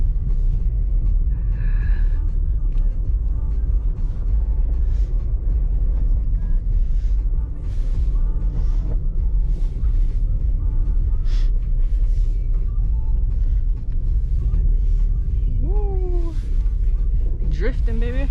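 A 2021 Jeep Grand Cherokee Trailhawk drifting in snow: constant heavy engine and road rumble with wind buffeting, close and loud, with occasional voices and a brief whoop over it.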